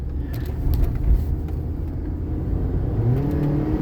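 Car accelerating hard on the road, its wheel off to the right and pulling on acceleration, giving a steady low engine rumble and road roar with faint rising whine, continuous and close from inside the cabin.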